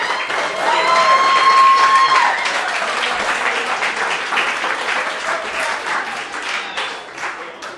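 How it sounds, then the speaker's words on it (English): Wedding reception guests clap and cheer after a toast, the applause loud at first with a few whoops, then slowly thinning and fading toward the end. "Round of applause for Alicia."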